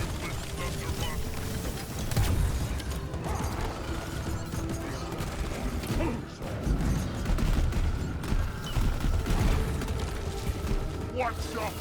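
Rapid video-game gunfire chatters in bursts amid clanking mechanical effects and impacts, with a voice talking over the busy firefight throughout.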